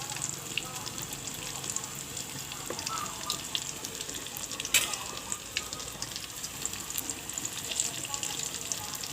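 Snow flower snacks frying in hot oil, a steady soft sizzle and crackle throughout with occasional louder pops, fairly quiet.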